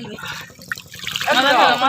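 Water poured slowly from a mug while bathing in the Ganges splashes and trickles close by for about a second, after people speak briefly.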